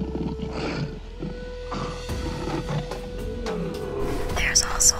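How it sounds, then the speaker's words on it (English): Lions growl and snarl at a zebra kill on an African safari in low, rumbling bursts. Voices talk quietly over the sound, and vehicle or engine noise hums in the background. "They're mostly getting along, but you'll hear some growls."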